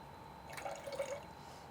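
A short, soft trickle of water poured into a container on a kitchen scale, about half a second of gentle gurgling splash, faint and close.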